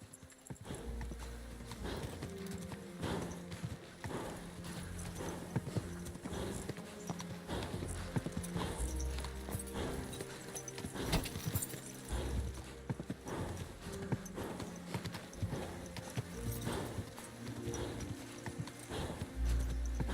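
A stolen horse's hooves clip-clop steadily in Kingdom Come: Deliverance II, with a brisk walking rhythm, an occasional whinny and game music running underneath throughout.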